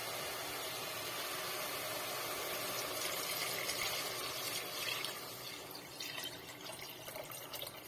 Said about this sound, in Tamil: இப்போ இந்த தேங்காய் பாலை சேர்த்துக்கலாம்